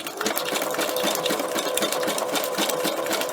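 A sewing machine stitches paper onto fabric with a fast, even mechanical chatter, close and steady from start to finish, with no talk.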